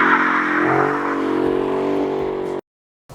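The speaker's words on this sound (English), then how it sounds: "The Hemi engine is running like it should." A Hemi V8 engine runs with a steady, loud, rumbling drone and a slight rise in revs, heard alone before cutting off abruptly near the end.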